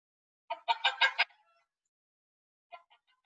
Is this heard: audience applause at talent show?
no